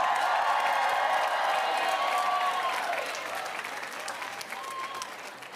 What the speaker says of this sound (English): Please give a round of applause for your neighbor.